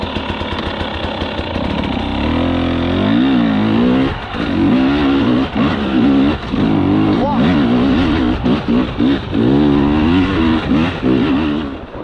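A Husqvarna 300 TEi two-stroke dirt bike with a remapped ECU revs hard in repeated bursts, its buzzing engine climbing and dropping through gears, close and loud, with a rider talking over it.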